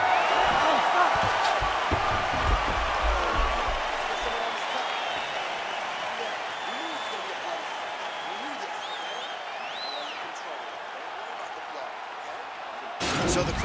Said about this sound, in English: So the crowd voicing its appreciation after that round.